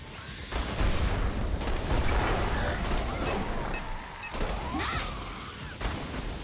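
Repeated explosions and booming blasts in the video game Killing Floor 2 rumble continuously and loudly, with bursts of crackling fire layered over a dense, noisy battle din.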